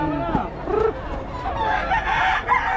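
Rooster crowing at a poultry sale, one clear crow near the start with other chickens clucking and people talking throughout in the background.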